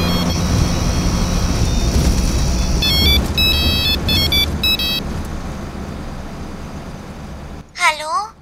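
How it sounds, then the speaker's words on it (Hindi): A phone ringtone chirps in a repeating electronic pattern over loud, rumbling background noise, then cuts off abruptly. "भाई उसी नंबर से फिर फोन आ रहा है।"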